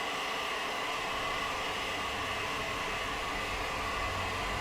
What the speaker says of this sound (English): We got the rotation light, which means the engine's spinning up